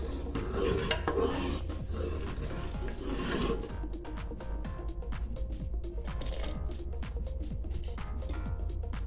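A spoon stirs boiling kadhi in a pot over medium heat, making continuous scraping and rubbing strokes against the metal under a low steady rumble.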